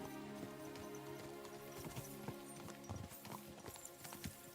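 Horse hooves clip-clopping on the ground in the medieval video game Kingdom Come Deliverance 2, a steady rhythmic run of hoof strikes, close and distinct, with no talk over them.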